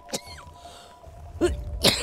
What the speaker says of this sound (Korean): 기침 계속 나오니까 막 기침해.